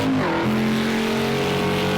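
Race car in the Project Cars 2 racing game, heard from the on-board view, with a loud continuous engine note that drops after a gear change and then climbs steadily as it accelerates through high speed.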